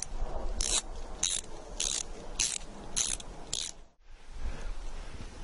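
Ratcheting clamp tightening a dog run cable: a series of about six sharp metallic ratchet clicks in a steady rhythm, close and loud, then a short pause and faint handling noise.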